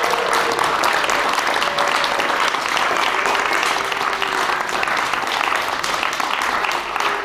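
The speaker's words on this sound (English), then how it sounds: "I did want a round of applause to all of the volunteers" Sustained applause from a crowd at an outdoor wrap-up event for volunteers at Evergreen Brickworks, dense and loud clapping that continues at an even level throughout.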